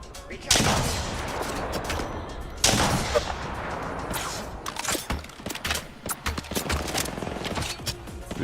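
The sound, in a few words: gunfire in the video game Highguard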